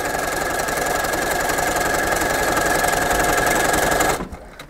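A sewing machine runs continuously while stitching fabric bunting, a loud close rapid mechanical whir that holds steady and then cuts off abruptly near the end.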